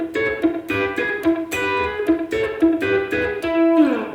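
Country-style E lick on electric guitar with a slightly palm-muted, clucking pick stroke on the root note, a quick run of plucked notes and double stops played alone, moderately loud and close.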